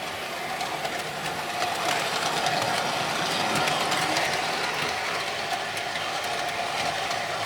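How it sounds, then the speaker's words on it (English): Silver Fox and Virgin HST model trains climb an incline, a steady close whirring and clicking of small motors and gears with a rapid ratchet-like rattle of wheels on track, no talking. "So it's a fair length of a train to do this."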